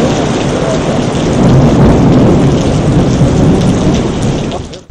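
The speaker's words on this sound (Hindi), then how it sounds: "चक्करगढ़ और गिरदोनवा में भी गरज चमक के साथ बारिश हुई।" A thunderstorm with heavy rain during the monsoon season in Punjab, with a loud, continuous roar of downpour and rumbling thunder that stays steady throughout, then cuts off abruptly at the end.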